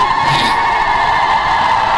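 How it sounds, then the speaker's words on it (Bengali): Women ululate and blow conch shells at a political rally in Cooch Behar, a steady, loud, high wavering drone of voices and horn tones that holds without a break and fills the whole moment. "দেখেছো মা বোনেরা কি সুন্দর উলুধ্বনি শঙ্করধ্বনি।"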